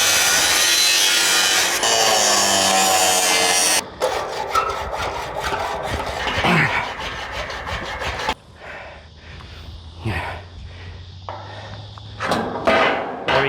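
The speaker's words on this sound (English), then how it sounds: "I've just got to measure it out and then cut this bottom plate off" A timber wall bottom plate is sawn by hand during tiny home construction: steady, loud back-and-forth rasping strokes in a rapid rhythm, then a quieter stretch of scattered scraping and knocks as the cut nears completion.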